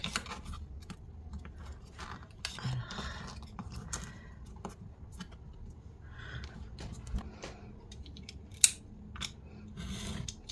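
Scissors snip the paper corners of a scrapbooking photo album, making a series of small, crisp cuts close by, including one sharper snip near the end, amid quiet handling sounds and no talking.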